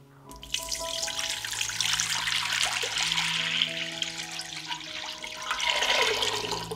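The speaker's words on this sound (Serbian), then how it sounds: "U šerpu sipam 2 litre vode." Two litres of water pour steadily into a pot, a continuous splashing rush that swells toward the end, with a faint tonal hum in the background.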